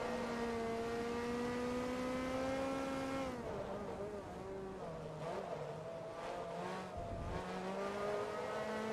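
Race car engines roar in Forza Motorsport 2, a steady high drone with layered tones that dips as gears shift, then climbs and wavers with revving and passing cars, loud and close with no talking.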